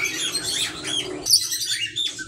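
Small singing parakeets (song parrots) in an aviary chirp and twitter in quick, overlapping bursts, close and fairly loud, with a busy cluster of bird calls throughout.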